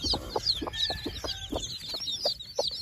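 Hen clucking steadily in a rhythmic series of low calls beside a brood of newly hatched chicks peeping continuously at high pitch, close and fairly loud with no talking.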